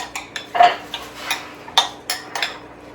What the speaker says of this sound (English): Okay, so we want to stir this all together.